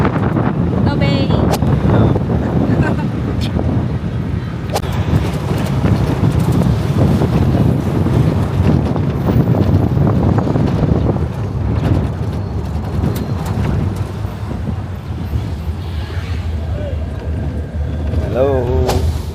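Heavy wind buffeting while riding in the open back of a pickup truck on a road in Mindanao, Philippines, loud and continuous with a low vehicle rumble beneath and voices talking over it.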